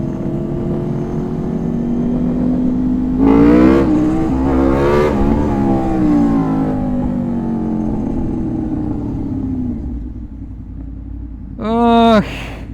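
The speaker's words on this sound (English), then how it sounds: "And Knightsbridge traffic." Street traffic in Knightsbridge, London, heard from a motorbike: a steady engine rumble and road roar throughout, with rising revs in the middle and a sharp horn-like tonal blast near the end.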